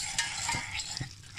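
A whisk scrapes and stirs through flour and butter in a pan, making a roux for lasagne, with a steady close scratchy swishing and a few sharper clicks against the pan.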